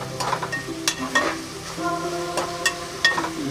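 Prawns frying in a pan for prawn dum biryani, stirred with repeated scraping strokes over a steady close sizzle, no voices.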